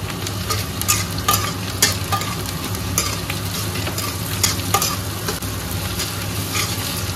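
Onions, ginger-garlic paste and black pepper spice frying in a pan, a dense continuous sizzle close up, with repeated scraping stirs cutting through at irregular intervals.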